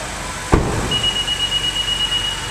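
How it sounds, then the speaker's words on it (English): A Honda with its engine still running sounds a single sharp thump of the door closing, followed by a sustained high-pitched electronic beep warning that the car was left on, over a steady idle hum. "you can hear the car is beeping to let us know that, hey, you are currently running right now"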